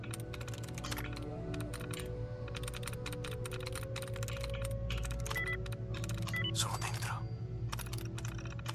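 Rapid, steady clatter of keyboard typing on a hacking terminal in Fallout 4 Far Harbor, with bursts of keystrokes separated by short pauses over a low ambient hum, fairly quiet and close.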